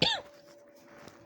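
A woman with flu gives one short, sharp cough at the start, followed by a quiet, steady background hum.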